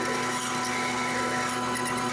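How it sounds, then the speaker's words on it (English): A cobalt drill bit bores into a large predatory fishing lure, producing a steady, continuous grinding whir that stays close and even throughout. "I swapped to a cobalt bit that I had that was better"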